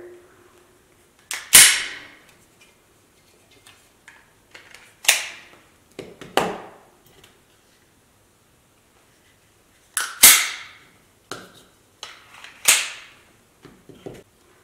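Sig P365 and Glock 43 pistols being cleared, giving sharp metallic slide racks and clicks in scattered bursts with gaps of near silence, close by and fairly crisp.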